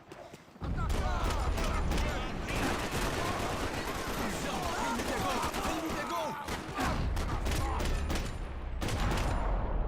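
Sustained gunfire from the video game Max Payne 3, dense rapid bursts of shots and booms filling nearly the whole stretch, loud and continuous with only brief gaps.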